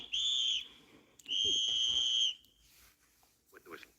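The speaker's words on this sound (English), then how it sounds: "When I blow this whistle" Two shrill, sustained whistle blasts ring out, a short one and then a longer one, loud and close, with faint talk-like sounds after them.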